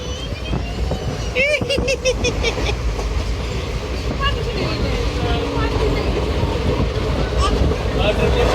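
A passenger train on an overnight trip to Thanjavur rumbles and clatters steadily along the rails, with a brief high tonal squeal early on and voices in the carriage.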